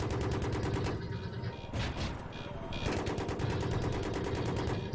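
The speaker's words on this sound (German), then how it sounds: "Dreh mal, dass ich abknallen kann mit dem kleinen Geschütz" A small mounted gun fires in Battlefield 3 with fast, evenly spaced automatic bursts, loud and close, pausing briefly in the middle before resuming the rapid rattle.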